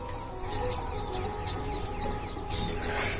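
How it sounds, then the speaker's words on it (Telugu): Birds in a rooftop garden give a few short, bright chirps in an irregular series over a quiet outdoor background. "పక్షులు కిలకిల కిలకిలకిలు ఆడుతున్నాయి"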